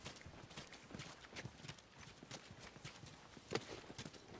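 Horses' hooves clip-clop in The Last of Us video game, a faint, steady run of soft clattering hoofbeats over quiet background ambience, with no speech.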